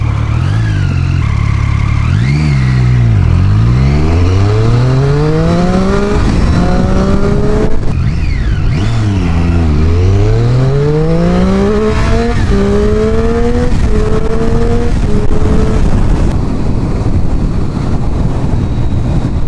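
A 2014 Triumph Street Triple R motorcycle revs hard and climbs through the gears in repeated sweeping rises and drops, loud and close, with wind rush throughout and no talking.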